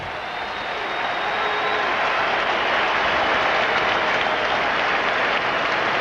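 A stadium crowd of more than 56,000 applauds an injured football player, E.G. Green, as he is carted off the field. The broad, steady clapping swells within the first second and then holds loud and sustained, with no talk over it.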